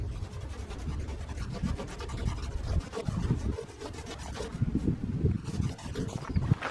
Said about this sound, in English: I'll start using this toothbrush for some of the smaller areas.